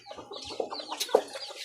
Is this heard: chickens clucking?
yes